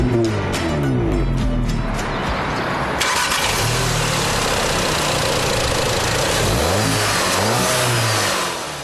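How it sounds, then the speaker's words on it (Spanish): An Audi S3 with a new 2-litre turbocharged TFSI direct-injection engine starts up and revs hard, loud and close, with rising and falling pitch sweeps as it accelerates and settles. "El motor es un turbo 2 litros"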